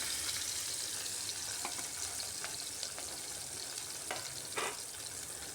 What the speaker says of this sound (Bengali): এইভাবে গরম তেলের মধ্যে মাছ ভাজলে মাছ কিন্তু ভাঙবেও না কড়াইয়ের মধ্যে লেগেও যাবে না